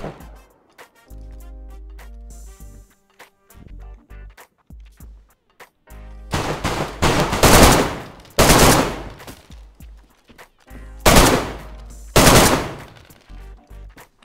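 Bursts of rapid gunfire in the video game DayZ erupt in several loud volleys, separated by quieter stretches with soft ticking and background noise.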